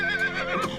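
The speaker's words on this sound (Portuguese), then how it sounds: "O som do cavalo." A short, bright horse neigh rises and wavers close by, ending in a breathy snort, heard alone without any voices.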